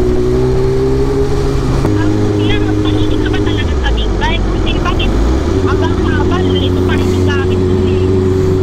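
A BMW big bike used as a habal-habal motorcycle taxi, its engine droning loud and steady while riding, pitch dipping and rising with throttle changes, with wind rush and someone talking over it.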